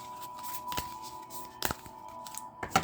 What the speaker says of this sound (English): So I'm going to shuffle this deck